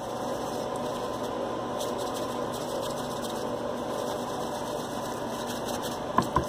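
A kitchen exhaust fan runs over a stovetop while pork chops are being prepared, giving a steady, even whirring hum that holds at constant level throughout, with a couple of faint clicks near the end.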